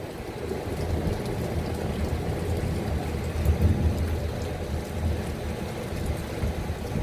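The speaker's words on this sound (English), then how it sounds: "we've got thunder and lightning now" Thunder rumbles low and heavy beneath steady rainfall during Hurricane Dorian in Orlando, swelling briefly in the middle before settling back into the constant patter.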